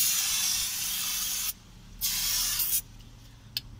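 Aerosol cleaner sprayed onto a brake caliper part during a front brake job on a 2014 MG3, in two steady hissing bursts of a couple of seconds each, then a short final puff, close and fairly loud.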